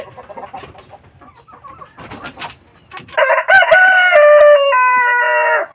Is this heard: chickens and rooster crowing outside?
yes